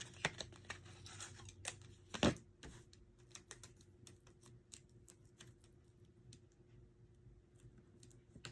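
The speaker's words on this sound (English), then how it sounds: "then that I pretty much just take my scissors" Scissors cutting paper for a graduation fan craft, a series of quiet, irregular snips and crisp ticks with one louder crunch, close and faint in a still room.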